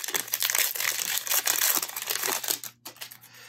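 A Pokémon Vivid Voltage booster pack wrapper is torn and opened, making continuous close crinkling and tearing foil rustles for a few seconds before it briefly goes quiet.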